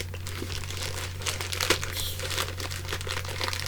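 Loud, continuous crinkling and tearing of packaging as a retro comic book mystery box is ripped open, a dense rustle with sharper bursts close to the microphone and no talking.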